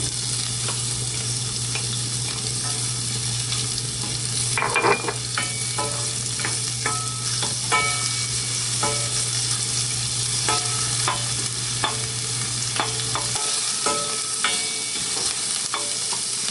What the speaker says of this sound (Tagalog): Halo na natin yung sibuyas.